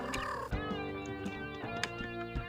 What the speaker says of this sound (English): Gizmo! That's our cat Gizmo.